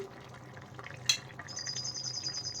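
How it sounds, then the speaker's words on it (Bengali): A spoon stirring jackfruit and prawn curry with ghee in a pan, soft scraping and a single sharp clink against the metal, with a faint sizzle and a high tonal whine in the background. "আবারও একটু নেড়ে দিলাম"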